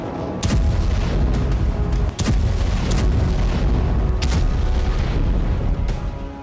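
Israeli air force bombardment near the Lebanon–Syria border produces heavy booming blasts, several sharp distant explosions standing out over a continuous loud rumble.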